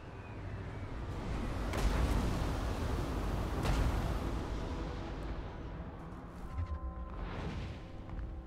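Trebuchet shots in a Total War: Warhammer battle land as heavy booming impacts twice in a row amid a rumbling battle din, followed by fainter thuds and a lingering tonal drone.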